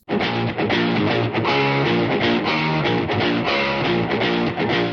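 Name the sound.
electric guitar run through an octave pedal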